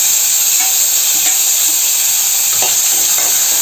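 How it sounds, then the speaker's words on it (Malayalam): Raisins tossed into hot oil in a pan, frying with a steady close hiss and sizzle and a few soft stirring scrapes over several seconds. "അപ്പോൾ നമുക്ക് അതിനകത്തേക്ക് മുന്തിരി ഇട്ടു."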